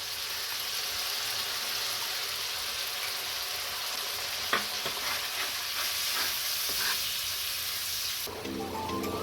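Paste of ground onion, garlic and green chilli dropped into hot oil in a pan for a dhaba-style egg tarka, a steady soft sizzle with a few brief spoon scrapes and clinks, fairly quiet throughout.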